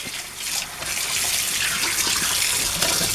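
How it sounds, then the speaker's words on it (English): A pot rinsed under a running kitchen tap, with a steady gushing stream of water splashing against the metal, loud and continuous throughout. "Now here, let me rinse this off. I'm going to rinse this out."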